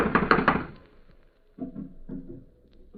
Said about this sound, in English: I'm going to knock.